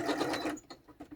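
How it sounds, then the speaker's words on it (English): A sewing machine running a straight stitch around a collaged book-page pocket, a fast, close, steady whirring buzz that stops halfway, leaving faint clicks. "Just doing my straight stitch all the way around."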